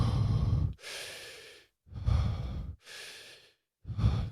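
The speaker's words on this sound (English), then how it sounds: "Basically, in each round, normally you do 30 deep breaths." Deep breathing exercise breaths, drawn in rounds from the belly, with four strong rhythmic inhales and exhales, close and loud, separated by brief pauses and with no talking.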